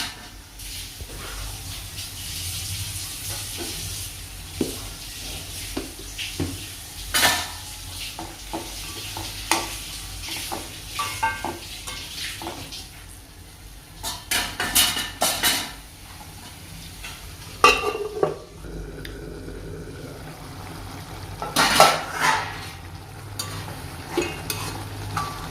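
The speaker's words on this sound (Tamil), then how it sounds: "கொஞ்சம் சால்ட்டும் போட்டு நல்ல கிளறி கொடுத்து மூடி வச்சு வேக விடணும்." Tomato gravy with salt is stirred in a pan, with scattered scraping and clinking strokes over a soft sizzle, busier bursts of stirring in the middle and later.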